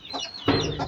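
Chickens in a rooftop coop give close, short clucks in a quick, uneven run, loud and clear with no talk over them.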